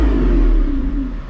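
Lamborghini Revuelto naturally aspirated V12 revving toward 8,500 RPM, a loud, close engine roar with a strong tone that falls slightly in pitch, heard alone.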